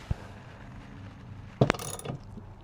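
A 1/2 inch Allen socket on a ratchet snugs down an O-ringed valve cover bolt in an engine bay, making one small click followed a moment later by a short sharp burst of ratcheting clicks, close by.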